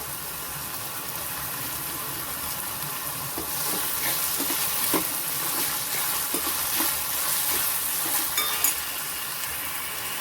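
Chopped onion with a little salt fries in a pan for a red amaranth and dal leafy dish, giving a continuous close sizzle with scattered scraping clicks as it is stirred, with no voices.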